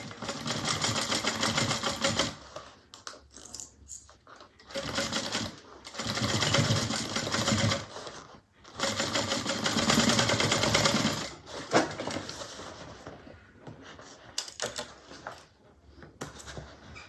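Sewing machine running in bursts while stitching a 3/8-inch seam across a bag, with several loud stretches of steady whirring separated by pauses, close and clear.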